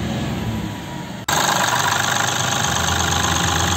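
A Mahindra Bolero SUV diesel engine idles steadily up close after starting; a sudden shift partway through makes the running engine louder and rougher, a constant mechanical rumble.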